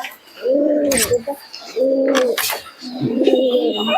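Giribaz pigeons coo close by in three rounded, throaty phrases with short gaps between them, alongside a few scattered sharper chirps.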